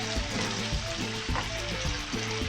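Chicken pieces frying to golden brown in a pan for chicken with pineapple juice, a steady loud sizzle running the whole time with faint scraping from stirring.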